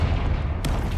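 A single sharp blast from the Confringo fire spell in Hogwarts Legacy cracks out midway over a steady low rumble of combat ambience, brief and punchy.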